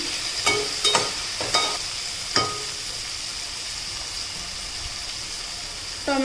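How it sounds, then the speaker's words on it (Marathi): Onion and tomato cooking down into a gravy in a pan, a steady soft sizzle with a few sharp spoon scrapes and knocks near the start and one at the end, no talking. "कांदा आणि टोमॅटोची एकदम ग्रेव्ही होईपर्यंत आपण हे शिजवून घेणार आहोत"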